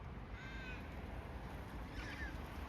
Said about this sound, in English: an Australian ibis being seen off by a couple of feisty magpies